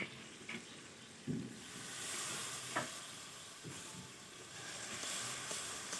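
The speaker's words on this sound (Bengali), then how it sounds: "টমেটো কুচি দিয়ে দিলাম যতটা সুন্দরভাবে কষাবে আলু কষাটা তত ততটাই সুন্দর খেতে হবে" Spiced potatoes and chopped tomato fry in a pan with a hissing sizzle, and occasional scrapes and thumps come from stirring. Nobody speaks.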